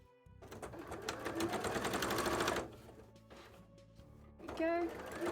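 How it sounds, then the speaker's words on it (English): A sewing machine top stitches the base of a costume tail in rapid bursts, first a long run, a pause, then a short second run, close by, with a person speaking softly in between. "do a little top stitch"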